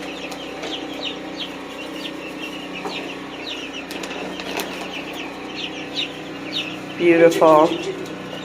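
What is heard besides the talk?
chickens clucking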